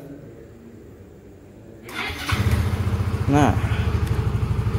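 A motorcycle, apparently a scooter, starts with a short whirr and settles into a close, steady, rapid idle putter, with a voice briefly heard.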